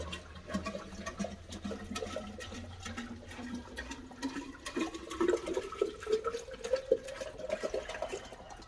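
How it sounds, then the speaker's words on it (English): A gallon of water is poured into a home-built blacksmith's quenching tank, a steady, fairly quiet splashing stream whose pitch rises as the tank fills, with no talking. "I got a gallon of just water here. I'm just going to pour it in"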